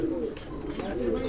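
Sialkot breed bater pigeons cooing softly in a short, repeated rolling pattern, fairly close, against a low background hum.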